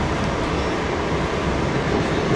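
A MARC commuter train arriving at Washington Union Station gives off a steady, loud rumble of wheels and rolling noise heard from inside the car, unbroken and with no talk.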